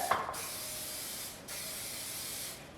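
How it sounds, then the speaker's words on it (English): A steady aerosol hiss of cooking spray coating a popover pan, close and continuous, with two brief pauses between bursts. "we're gonna spray our popover pan with some cooking spray"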